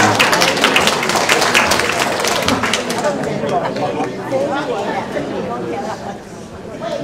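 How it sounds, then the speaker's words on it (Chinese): An audience at a community-centre lecture on facing midlife claps for about three seconds to welcome a speaker, then the applause thins into murmuring and talk. "掌声欢迎她"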